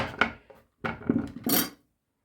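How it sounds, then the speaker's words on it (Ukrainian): A carrot rubbed over a metal Korean-style julienne grater in a home kitchen while making fermented cabbage, giving three separate loud, rasping strokes with short pauses between them, then silence. "а тепер морквину на корейську тертку"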